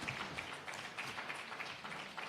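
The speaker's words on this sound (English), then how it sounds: "A big round of applause for our panelists today." Audience applause for panelists at a business dialogue award event, a faint, steady patter of clapping from a small crowd.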